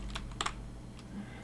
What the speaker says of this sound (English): Now if I want to look at what I wrote, I can type in ls myapps/hello world.